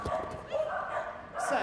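A dog at a Crufts agility team competition gives short yips and barks over arena crowd noise and commentary, a few quick calls within a busy, moderately loud scene.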